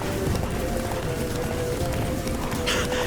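Geralt's horse Roach gallops in The Witcher 3: Blood and Wine, a steady run of clip-clopping hooves under ambient game sound, with a brief voice near the start.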